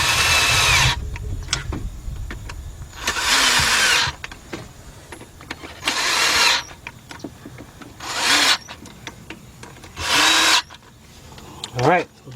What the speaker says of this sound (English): Let's slowly bring these bolts in.